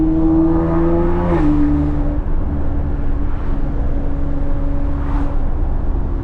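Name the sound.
catless tuned BMW X3M engine while driving at night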